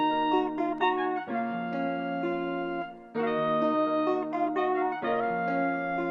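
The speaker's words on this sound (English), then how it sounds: "So the thing which I think makes this flute sound real good, or clarinet, is these little like follow-on notes," A sampled flute or clarinet melody in an FL Studio beat, treated with wow control and EQ, plays sustained notes with small sliding follow-on notes. Two similar phrases are split by a short pause, and no one speaks.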